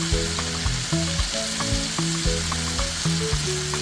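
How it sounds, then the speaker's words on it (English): Soy sauce goes into a sizzling spaghetti stir fry in a hot pan, with a close, steady frying hiss and rhythmic tapping from stirring utensils. "So there we go with the soy sauce."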